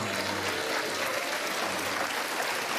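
A studio audience on the Dr. Phil show applauds, a dense, steady wash of many hands clapping that carries on without a break and has no talk over it.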